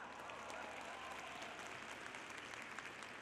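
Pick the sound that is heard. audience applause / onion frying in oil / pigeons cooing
audience applause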